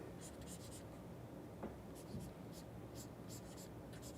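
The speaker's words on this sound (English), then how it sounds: "using my fundamentals of drawing, I'm going to draw a cylinder" A pencil draws a cylinder on paper, giving soft, continuous scratchy strokes with brief lighter ticks, close and quiet.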